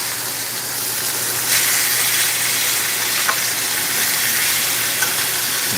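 Seasoned food sears in a hot frying pan at home for a weeknight dinner, a steady, loud, even sizzle running throughout with a few small pops and crackles, no voices.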